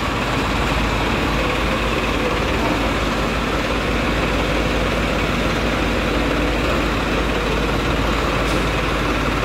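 A heavy diesel engine of a Farmtrac 60 tractor idles close by, a steady, rumbling drone that stays even throughout with no voices.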